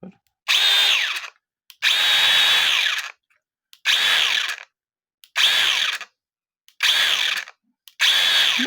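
A small battery-powered chainsaw motor whirs up after repair, running in six loud high-pitched bursts of one to one and a half seconds each, separated by short silences.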